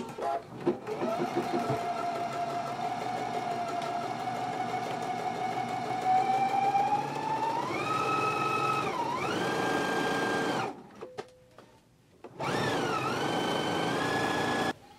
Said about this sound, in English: now we can go to the sewing machine and stitch it at a 5/8 of an inch seam allowance